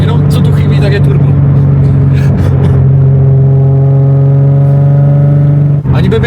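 A Nissan 350Z's naturally aspirated engine, without a turbo, heard from close by, holds a loud, steady low drone with a constant tone for several seconds before a brief dip near the end.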